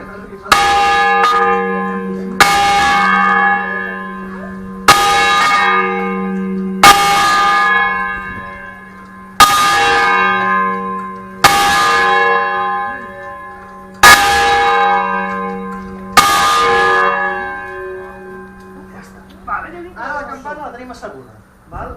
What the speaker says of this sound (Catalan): sempre es comença a tocar així, les campanes grans, les petites no cal